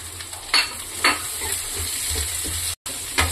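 Ginger, garlic and green peas fry in a pan for vegetable and egg fried rice. A spatula scrapes and stirs in several distinct strokes over a constant close sizzle, with a brief cutout near the end.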